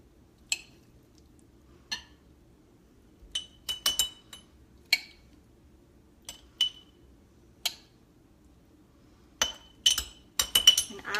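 Glass salad jars clinking as mandarin oranges are layered in for a ramen noodle salad, a scattering of sharp, close clinks and taps at irregular intervals with near silence between them, quickening toward the end.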